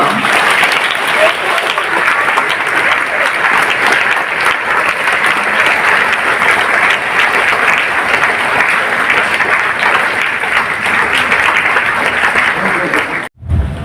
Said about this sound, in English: Let's applaud enthusiastically for Mr. Rakesh Sharma.